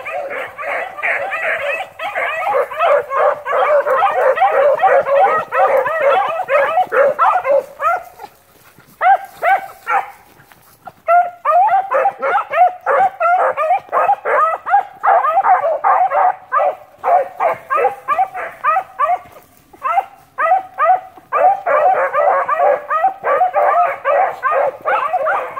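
A pack of beagles baying and yipping loudly while chasing a rabbit, dense overlapping barks and howls nearly continuous, with brief lulls between bursts.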